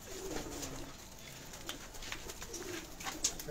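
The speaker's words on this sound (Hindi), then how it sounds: "हसीन कबूतर हैं जी, हसीन कबूतर, लाटू कबूतर" Lotan pigeons at a rooftop loft give soft, low cooing amid faint ambient noise and scattered small clicks.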